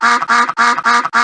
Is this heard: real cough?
no